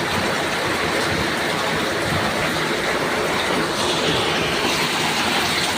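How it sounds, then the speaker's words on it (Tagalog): Heavy morning downpour roaring steadily, a thick unbroken wash of rain noise at constant high level without pauses or voices. "Grabe, ang lakas ng ulan."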